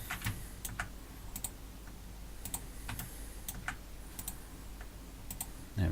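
Computer keyboard keys are tapped while working in CAD software, producing scattered, faint, irregular clicks over a low steady hum, with no voices.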